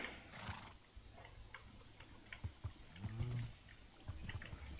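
A Minecraft horse lets out a rising, wavering neigh partway through, with scattered clip-clop hoof taps and small clicks around it, all fairly quiet against a soft background.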